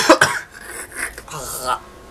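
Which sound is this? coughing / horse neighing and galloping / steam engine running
coughing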